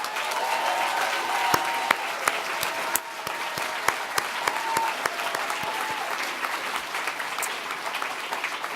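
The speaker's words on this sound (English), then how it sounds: "let's just have a final round of applause for all of you" A large audience applauds at the Scottish Charity Awards 2018 ceremony, dense continuous clapping with sharp individual claps standing out, sustained at an even level throughout.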